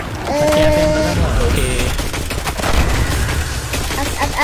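Gunfire from shooting in the video game Destiny 2: loud, dense bursts of rapid shots mixed with game effects and tonal sounds, with voices talking over the action.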